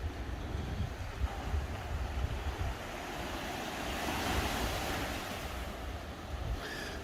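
Steady rush of Mediterranean Sea waves breaking on a shore, continuous and fairly loud, with wind noise buffeting the microphone throughout.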